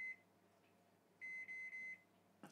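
Microwave oven timer beeping during an experiment heating a black lugworm: a short faint beep, then a run of four steady beeps in quick succession, fairly loud against a quiet room.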